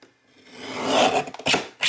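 Blade or trimmer rasping through the card stock border of a Dark Goddess tarot deck, a short rising scrape followed by two quick cutting strokes, close and alone.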